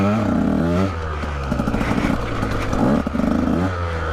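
A 2017 Husqvarna TE 150 dirt bike's two-stroke engine buzzes and revs while being ridden, rising and falling in pitch with throttle changes, loud and close.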